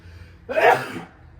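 A single sharp sneeze bursts out close to the mic, a quick intake followed by a loud explosive release, then quiet.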